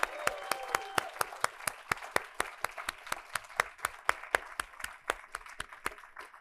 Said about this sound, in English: give a round of applause to all our presenters today